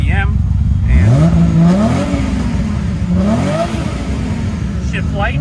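A Nissan R32 GTR engine revs hard twice toward its rev limiter, each rising whine climbing then dropping back, loud and close over a rough idle, with someone talking through it.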